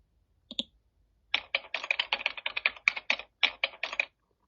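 Keys clatter on a computer keyboard in a quick, uneven run of crisp clicks after a single tap, close and clear against near silence, with no voices.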